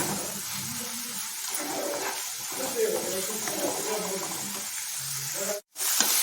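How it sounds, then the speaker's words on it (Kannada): Chili powder and turmeric frying in oil in a pan for a bamboo shoot masala, giving a steady close sizzle throughout, with a brief dropout near the end and faint voices underneath. "ಹಸಿಮೆಣಸಿನ ಪುಡಿ ಹಾಕ್ಕೊಳ್ಳೋಣ ಇದನ್ನು ಕೊಡೋದ್ರ ಜೊತೆ ಫ್ರೈ ಮಾಡ್ಕೊಳ್ಳೋಣ"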